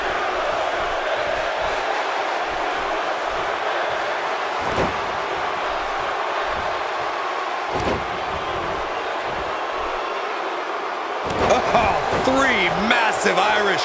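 Arena crowd in the WWE 2K18 wrestling game, a steady roar of cheering under thumps from the ring. A commentator's voice comes in near the end.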